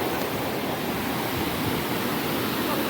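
Rushing water at the Lata Bunta waterfall, a dense, steady roar of falling water heard up close, loud and unbroken with no voices.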